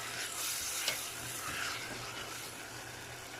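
Sautéed onion, tomato and garlic with salt being stirred in a pan, giving a steady close sizzle with faint scraping throughout, no talking.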